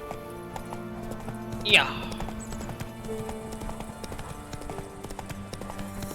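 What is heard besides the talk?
horse Roach galloping hooves in video game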